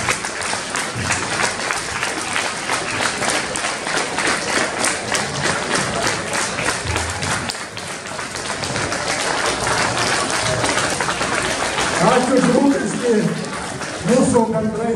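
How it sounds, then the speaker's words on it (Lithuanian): Parents at a school gathering in Rokiškis draw a long burst of applause from the audience, steady dense clapping lasting the whole stretch, with a voice cutting in near the end. "Plojimai tėveliams"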